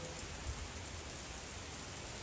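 Heavy hurricane rain falls steadily in Florida, with water dripping and spilling off a roof close by as a constant wash of noise with no voices.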